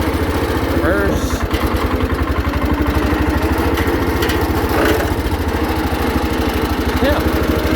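Small engine of a 1979 Case 224 hydrostatic riding lawnmower running steadily at idle with a continuous low chugging drone, close and loud throughout.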